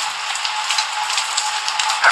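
Steady rain falls in darkness outside a house at night, a dense, continuous patter of drops with brief louder spatters, even throughout and with no voices.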